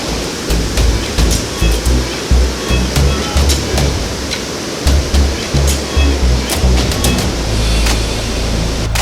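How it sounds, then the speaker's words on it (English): The waterfall at Inglis Falls, Ontario roars as a dense, steady rush of water up close, loud and continuous with no voices over it. "As soon as we came, the waterfall was right there."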